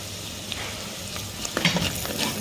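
Agri masala fries in a clay pot over a wood-fired stove for goat head gravy, a close sizzling hiss with scraping stirs that grow louder near the end.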